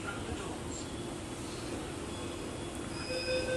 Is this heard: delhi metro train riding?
yes